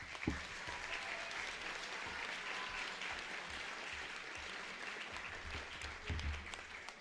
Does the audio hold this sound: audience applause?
yes